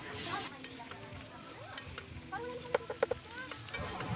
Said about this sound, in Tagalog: Tinakpan nga muna saglit ni Inday habang kumukulo para maluto yung hotdog